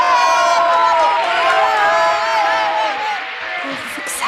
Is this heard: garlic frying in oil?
no